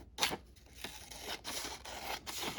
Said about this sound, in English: I want to cut out the blue here